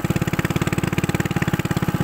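A motorcycle engine runs close by with a fast, even chugging pulse, loud and steady throughout, no voices over it.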